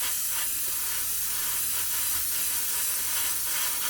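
An aerosol can sprays super clear matte coat onto small model kit parts held on a cocktail stick, a steady close hiss broken by several short pulsing bursts, with no talking.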